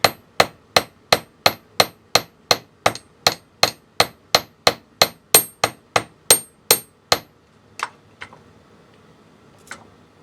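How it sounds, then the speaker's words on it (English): Metal tubing hammered on a steel bezel block, a steady run of about twenty sharp, ringing strikes at an even quick rhythm, close and loud, then a pause and two isolated taps. "Or hammer straight to it."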